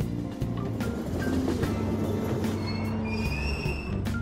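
Train wheels squeal and rumble as a train moves through a station platform in the Persona 5 video game, a loud sustained grinding with shifting metallic tones and no voices.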